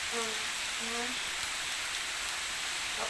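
Steady rain falls outdoors in Kerala as a broad, even hiss, with a brief voice-like tone early on under the downpour.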